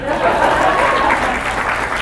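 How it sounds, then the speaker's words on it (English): Applause from an audience at an advertising industry talk in Baton Rouge, a steady dense wash of clapping lasting about two seconds, fairly loud and unbroken. "Applaud"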